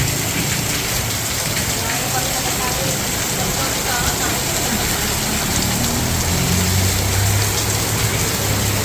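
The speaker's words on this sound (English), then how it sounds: "This is rain." Steady rain from a rainstorm in Cabuyao, Laguna, Philippines, falling and pattering on surfaces, a constant broadband hiss with a low rumble underneath, loud and close throughout.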